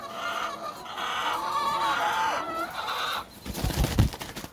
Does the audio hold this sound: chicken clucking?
yes